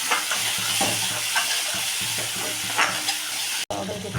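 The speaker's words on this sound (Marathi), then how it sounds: "छान असं हलवून घ्या, असं मिक्स करून घ्यायचं छान।" Dal mixture with tomato being stirred and fried in a pan, a steady close sizzle with repeated scraping strokes of the spoon throughout.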